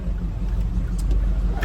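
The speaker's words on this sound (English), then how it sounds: "This traffic is getting a little heavy." Steady low rumble of road traffic around a car driving in Arlington and Grand Prairie as traffic gets heavy at shift-change time, a continuous close drone of engines and tires with no speech.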